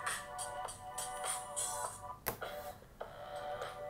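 An LG K20 phone's built-in speaker plays a tinny, tonal melody with regular rhythmic beats while the phone is held in the hand, close and fairly clear.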